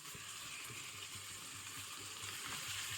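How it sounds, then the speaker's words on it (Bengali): Small chicken pieces fry in a spice masala for chicken ghugni, giving a faint, even sizzle with a few soft stirring scrapes underneath. "ছোট ছোট করে পিস করে আমি চিকেন গুলো কেটে রেখেছিলাম, এবার চিকেন গুলো আমি এর মধ্যে দিয়ে দেবো"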